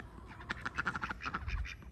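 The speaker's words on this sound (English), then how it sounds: "Those are our ducks, Donald and Daisy." Backyard pet ducks, Donald and Daisy, quack repeatedly in a quick chattering run, fairly faint and somewhat distant, in a garden with chickens.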